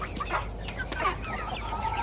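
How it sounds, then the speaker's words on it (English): Young chicks peep and chirp in a yard on a morning outing, a busy scatter of short, high calls close by with no talk over them. "All young chirping."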